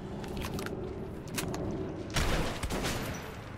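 Shotgun blasts in the video game Metro 2033, a few sharp bursts with one heavier report near the end over a steady in-game background rumble.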